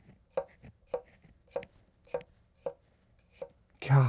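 An Enso Aogami Super 9.5-inch hand-forged kiritsuke slicing through food on a cutting board, seven crisp evenly spaced cuts heard close and alone, ending with a louder knock.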